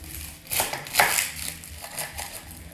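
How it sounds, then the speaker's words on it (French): A kitchen knife slices a second head of garlic in half for a Sunday roast chicken, a couple of crisp chopping cuts on a board, close and clear with no talking. "on va couper aussi, du coup, cette deuxième tête d'ail en 2"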